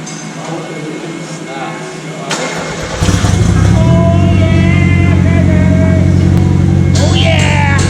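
A Nissan S13 with a CA18DET engine, after injector cleaning, cranks and catches, then settles into a loud, steady, rough running idle close by, with excited voices calling out over it.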